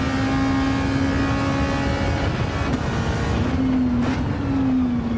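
A race car engine in Gran Turismo 7 holds a steady, loud drone near and alone, with slight pitch dips and rises as it revs through corners.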